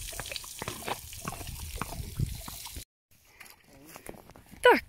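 Water runs from a hose or tap while horses are showered, a close splashing trickle that cuts out midway and then resumes more faintly, with a sharp squeal at the very end.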